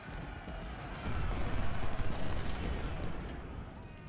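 Dense rolling volleys of gunfire in a video game battle, a loud continuous rumble of massed shots with crackling bursts throughout.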